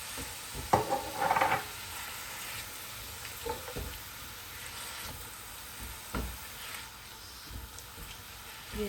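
Onions frying in ghee for bhuna khichuri: a soft, steady sizzle with a few stirring scrapes and clinks near the start and scattered spoon knocks later, no talk.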